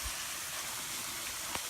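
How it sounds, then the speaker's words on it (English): Rain falling outdoors at a nature spot with a koi pond, a steady, even hiss of drops heard alone for under two seconds, with one faint tap near the end. "And now it started raining on us."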